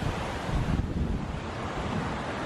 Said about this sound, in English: It's windy and all.